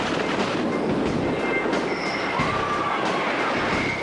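A classic roller coaster train runs along its track, a loud continuous rumble with clattering wheels and brief metallic squeals, close by.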